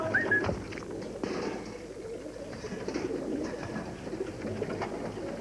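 A pigeon coos softly a few times against a constant outdoor background hum, fairly close but not loud, with no talking.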